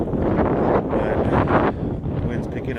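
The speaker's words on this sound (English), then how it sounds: "But wind's picking up a little bit." Wind blowing steadily across an open-air box culvert construction site beside a low stream, a broad rushing roar with gusty swells, loud and close against the microphone, with someone talking over it.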